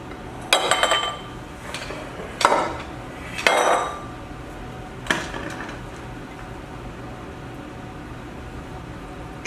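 Utensils clink and scrape against a 9x13 pan while sausage and cranberry stuffing is mixed together, a few sharp metallic hits and scrapes spread over a quiet background.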